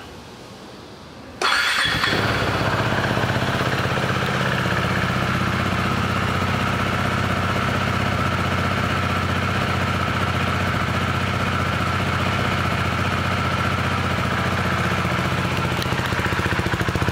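A 2019 KTM 390 Duke motorcycle engine starts and then idles steadily, a loud, close, continuous rumble that holds for more than fifteen seconds without any speech.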